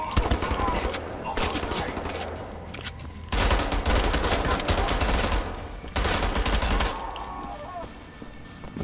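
Rapid automatic gunfire in the shooter game Wolfenstein: The New Order, loud bursts of machine-gun fire that stop and start in several long volleys with brief quieter gaps between them.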